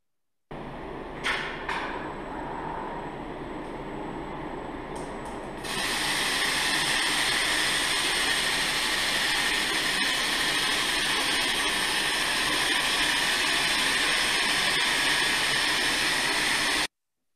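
A disc laser welding system working with an industrial robot gives a steady, loud broadband hiss and hum. A few faint clicks come first, then the noise jumps to a constant high-pitched rush that lasts until the end.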